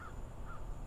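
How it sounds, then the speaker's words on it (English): A crow caws twice outdoors against a steady background of low wind rumble, faint and moderately distant. "you might hear a little wind blowing or birds tweeting"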